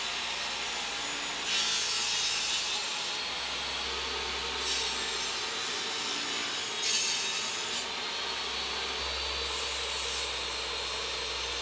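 A table saw cutting wood pieces to length against a stop block, with four separate cuts rising as bright, hissing bursts over the steady hum of the running saw.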